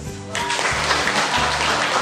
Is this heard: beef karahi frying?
no